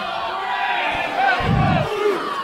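Wrestling crowd at a live event cheering and yelling, a dense arena roar with a short louder burst of shouts partway through.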